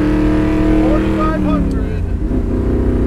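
A 1967 Ford Fairlane V8 pulls hard at full throttle, a loud close engine roar climbing steadily in pitch as it accelerates, with a voice talking over it.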